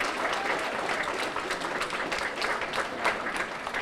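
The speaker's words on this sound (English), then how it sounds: "another round of applause for a job well done" A crowd at an Older Americans Month celebration applauds with dense, sustained clapping that holds an even level from start to finish, loud and close, with no voices over it.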